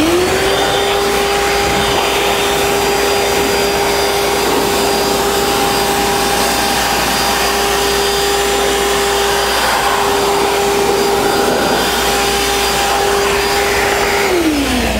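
Loud, steady rush of a compressor-driven air blower clearing sanding dust off a carved wooden church sign with roses, running continuously for about fourteen seconds before winding down at the end.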